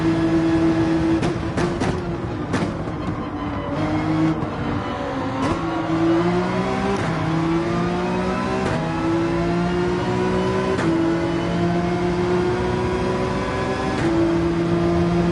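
Race car engine at full throttle in Gran Turismo 7, loud and close, climbing repeatedly through the revs with brief dips at each gear change.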